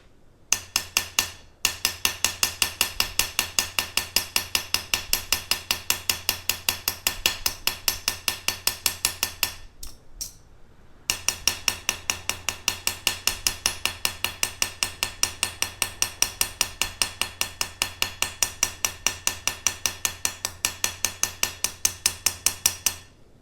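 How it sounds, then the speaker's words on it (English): A very small ball peen hammer dimples a scrap copper piece with rapid, evenly spaced metallic taps. The close, steady strikes pause briefly near the start and again in the middle. "Just using a very small ball peen hammer, we're going to dimple this piece."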